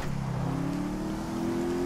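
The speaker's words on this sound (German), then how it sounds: "Ist aber schon ein geiles Auto." A car engine revs in the GTA 5 video game, its rising, droning engine note climbing steadily and holding loud throughout with no talk.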